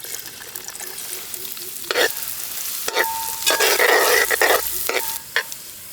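Sliced big onions sautéing with cumin in coconut oil for a Kerala fish pollichathu masala, a soft sizzle under several loud bursts of spoon stirring and scraping against the pan.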